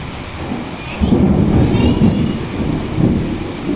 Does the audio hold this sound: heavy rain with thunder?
yes